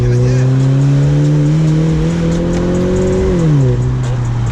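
A loud BMW 120i E88 engine with a modified quad-pipe exhaust and back box delete revs steadily with a deep, throaty exhaust drone, rising slightly and then dropping back, continuous throughout.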